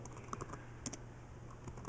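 A computer keyboard is typed on indoors in soft, scattered clicks at an irregular rhythm. It is fairly faint and close, with no voices.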